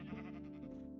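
A sheep in the video game Minecraft gives a single short, wavering bleat, quiet and alone.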